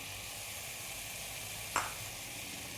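Spice powders and chopped tomato for mutton curry sizzle in a pan, a quiet, even frying hiss that runs throughout, broken by one brief clink near the middle.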